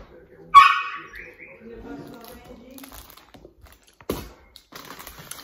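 A dog gives a sharp yip followed by soft whimpering, then another brief bark-like burst, close by in an indoor setting amid faint rustling.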